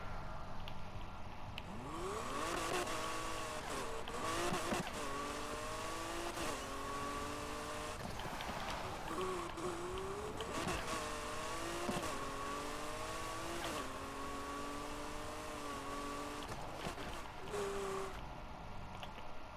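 A McLaren 570S Spider racing in a video game: a loud engine climbs and falls through repeated revs and gear changes, with tire squeal over about twenty seconds and no speech.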